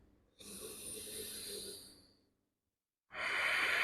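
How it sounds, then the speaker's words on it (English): Slow, deep breaths during a dynamic yoga flow: a long, airy inhale lasting over a second, a brief pause of silence, then the start of a strong, rushing exhale, close and fairly loud with no talking. "inhaling into wherever you're most feeling the tension. And exhaling to release."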